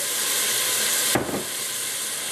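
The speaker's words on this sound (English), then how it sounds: "We are going to deglaze the pan with white wine." White wine poured into a hot pan for a bacon and cheese soup sets off a sudden loud hiss and sizzle. A steady steamy hiss runs the whole time, and the burst settles back to a constant sizzle.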